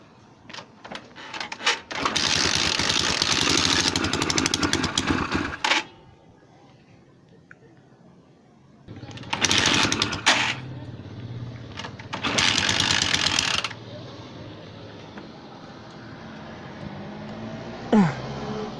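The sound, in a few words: motorcycle engine running after repair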